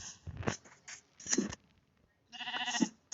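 Sheep bleating in Minecraft, three short blocky bleats spaced across the moment, moderately loud and alone with quiet gaps between them.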